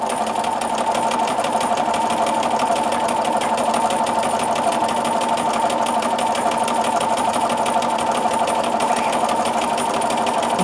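A sewing machine quilting straight grid lines across a quilt, running steadily with a fast, even needle patter and motor hum for the whole stretch, with no talking.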